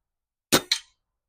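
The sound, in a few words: Falcon Prairie BM air rifle shot over a chronograph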